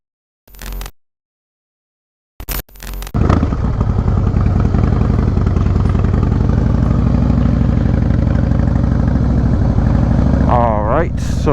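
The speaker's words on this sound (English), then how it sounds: "today we're going to be doing a quick demo of this 2017 CVO Harley-Davidson Breakout." A 2017 Harley-Davidson CVO Breakout motorcycle starts after a couple of short bursts, then its engine runs steadily and loud up close on a riding-academy range, with a brief rising rev near the end.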